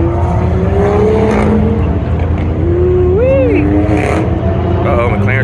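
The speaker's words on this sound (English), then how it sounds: "Watch the McLaren come." At a cars and coffee meet, a McLaren sports car drives past with a loud engine note that rises and falls, among crowd noise and people talking nearby.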